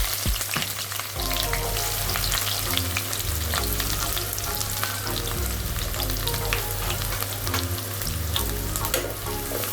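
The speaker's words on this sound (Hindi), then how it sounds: "ऑनियन को थोड़ा लाल करना है हमें, लाल करके भून के लेना है" Onions frying in oil with small cardamom and cinnamon pieces for chhole, a steady loud sizzle with stirring scrapes throughout, close by and without talk.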